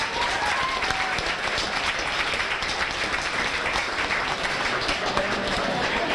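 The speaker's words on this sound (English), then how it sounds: "let's give a big round of applause to Cheryl Woke and the kitchen staff for the fantastic meal" Big round of applause for the kitchen staff at a high school winter sports banquet, sustained crowd clapping throughout, steady and fairly distant with a murmur of voices underneath.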